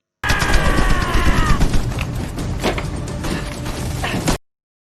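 Gunfire from a truck in the Korean War film 71: Into the Fire: loud sustained bursts of rapid automatic fire with sharp cracks, close and dense for about four seconds before cutting off abruptly.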